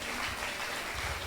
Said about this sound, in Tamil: நல்லா கைத்தட்டுங்க, நல்லா ஜோரா கைத்தட்டு